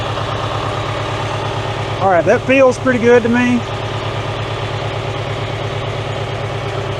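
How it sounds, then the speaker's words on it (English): A David Brown tractor engine idles steadily with a low, even rumble throughout, close by, while someone talks briefly over it. "The engine quits bogging."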